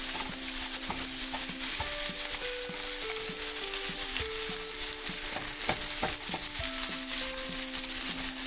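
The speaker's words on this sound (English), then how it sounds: "I have to let that warm up and saute for just a little bit" Rice sautéing in a pan gives off a constant bright sizzle, with frequent short scrapes and clicks of stirring close by; a steady tonal hum runs underneath.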